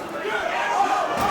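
Wrestling arena crowd during a Ring of Honor match between Claudio Castagnoli and Brent Albright, a sustained roar of cheering and jeering voices reacting to a taunt, with commentary talk over it.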